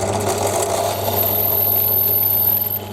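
A 4.2 mm drill bores a hole for an M5 tap on a Warco WM180 lathe setup, a steady close machine whir and hum running throughout.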